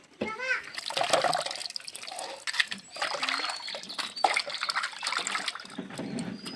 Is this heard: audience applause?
no